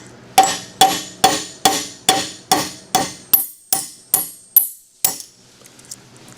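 About a dozen sharp metallic hammer blows on a cold chisel and punch driving out a pin on a Columbian No. 206 vise, evenly spaced and close, then stopping.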